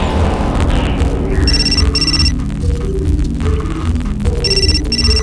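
A phone rings in the video game Still Life 2: two short bursts of bright electronic trills, then a pause and two more, loud over a steady low ambient hum.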